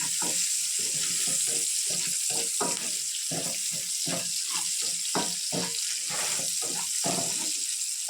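Dried red chilies and curry leaves fry in hot oil for a spinach and tomato curry, a constant bright sizzle broken by rhythmic scraping stirs at a steady pace, close up and loud.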